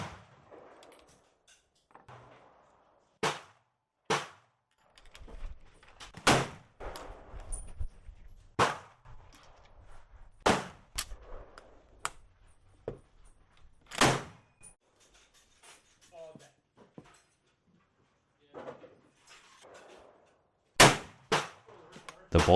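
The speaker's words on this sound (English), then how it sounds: "The bolt is a bit harder to open with these cases" Danish Krag rifle bolt worked repeatedly while extracting 8x58R cases, giving a series of sharp, loud metallic clacks and snaps spaced a few seconds apart, with quieter handling rattles between them.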